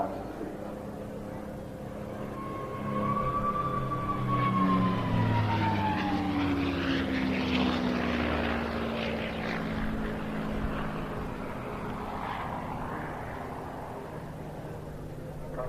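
A 1944 North American P-51D-25NA Mustang with a Rolls-Royce engine flies past at an air festival, its steady propeller drone swelling as it passes and easing off again, with faint background voices.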